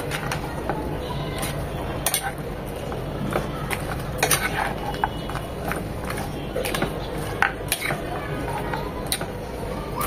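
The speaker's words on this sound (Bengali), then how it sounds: "এখন খুব ভালোভাবে সবকিছু মিশিয়ে নেব।" Cashew salad with chicken and sauce being stirred together in a pan off the heat, with irregular scraping clicks and taps of a utensil against metal running steadily under a low background hum.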